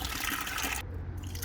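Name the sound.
grey waste water poured from motorhome into a bucket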